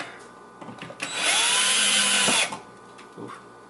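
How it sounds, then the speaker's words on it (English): A power drill drives a screw to tighten an electrical outlet into brittle drywall, giving a single loud whirring burst of about 1.5 seconds between quieter handling noises, with no speech. "Let's go ahead and just screw this in a little bit more, just so it's nice and"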